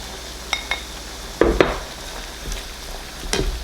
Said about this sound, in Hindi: अब हम इसमें सारे स्पाइसेस ऐड करते हैं। और साथ में जो हमारे चॉप टमेटोस हैं वो डालेंगे।